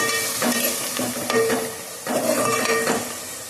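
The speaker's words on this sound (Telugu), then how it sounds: "ఉల్లిపాయలు పచ్చిమిరపకాయలు వేగినాయండి బాగా" Sliced onions and green chilies fry in a pan for a Telugu bean and tomato curry, with a steady sizzle broken by three or four distinct spatula stirring strokes scraping the pan, close up and with no voices.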